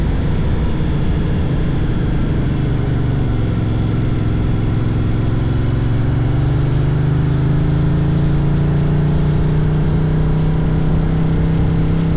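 A Moto Morini adventure motorcycle engine hums loud and steady while riding on a road, its pitch climbing gradually as the bike speeds up, with constant wind roar over everything.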